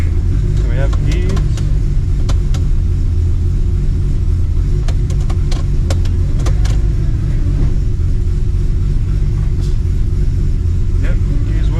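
A car engine rumbles steadily as the vehicle is run through its gears after a repair, loud and close, with occasional clicks and a voice talking over the noise.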